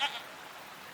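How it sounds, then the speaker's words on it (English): A goat bleats once in the video game Season: A Letter to the Future, a short nasal cry at the very start that fades into quiet ambient game sound. "What are these strange goat-like creatures?"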